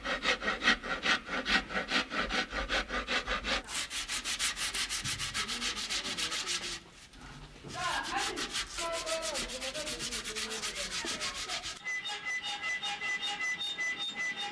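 Steady rhythmic rasping and sanding strokes on the wooden rim of a drum, repeated scraping in bursts with a short pause midway, close and clear with no talk.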